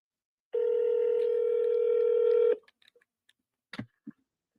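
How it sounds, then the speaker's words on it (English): A telephone line gives one long steady tone lasting about two seconds, then falls quiet apart from a few scattered clicks and taps as the call goes unanswered. "Nobody's picking up the phone."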